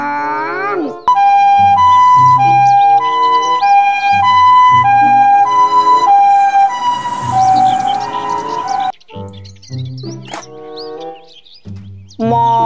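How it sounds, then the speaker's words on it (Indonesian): Loud electronic two-tone toy siren wailing up and down in a repeating pattern, with a short break and other toy sounds near the end. "Mobil ambulan."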